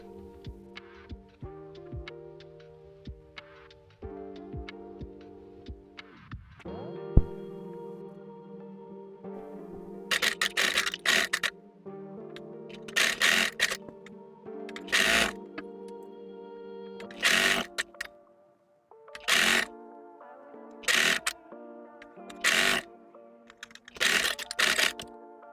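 A sewing machine stitching a cradle pillow and ties, repeated runs of rhythmic mechanical whirring with short pauses between, steady and close, growing into regular bursts later with no talk.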